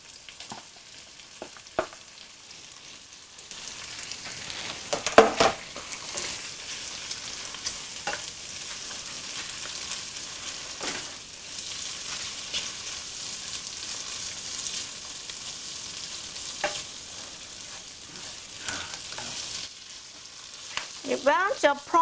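Prawns frying in a hot wok for Hokkien mee, a steady sizzle with scraping stirs and sharp clanks of the spatula, ending in a louder burst of tossing.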